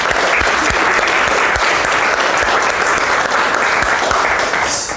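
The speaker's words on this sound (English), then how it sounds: "Give them 2 round of applause." A crowd at a digital conference applauds a motivational talk, loud, dense and sustained clapping that holds steady throughout and eases slightly at the very end, with no talk over it.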